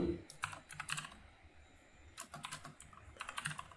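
Code being typed on a computer keyboard, quick bursts of close, soft key clicks with short pauses between them, quiet and alone.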